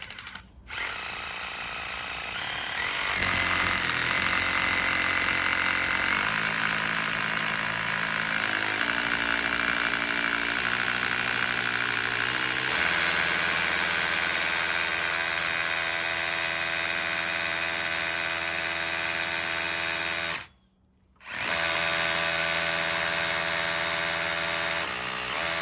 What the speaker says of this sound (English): Here you can see that I can spin this super slow and I can gradually just step it up.